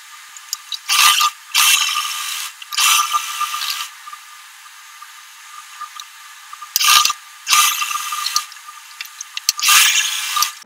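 Sewing machine stitching the shoulder seam of a short nighty gown, heard as several brief close bursts of rapid mechanical whirring separated by quiet pauses.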